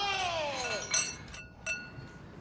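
Drinking glasses clink together in a celebratory toast among people at a table, with a few bright ringing taps in quick succession that fade out.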